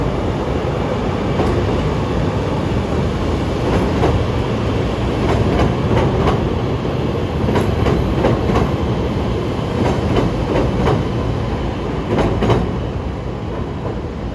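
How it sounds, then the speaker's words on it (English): A CTA Pink Line train pulls out of Harold Washington Library station in Chicago on a rainy day, a loud steady rumble of wheels on rails with recurring clicks and clacks at the joints, no talk. "here's a Pink Line train about to pull out of the station at Harold Washington Library"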